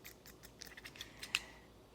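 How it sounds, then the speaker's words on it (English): Dollar Tree scissors cut through fuzzy sock fabric for a craft gnome, giving a quiet, irregular run of light snips and clicks with one sharper snip near the end, set against a soft background hiss. "these scissors are absolutely the worst scissors of all"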